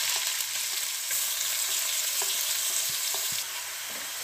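Finely chopped onion and cumin seeds sauté in hot oil in a home kitchen pan, giving a steady close sizzle with occasional faint stirring clicks and no talk.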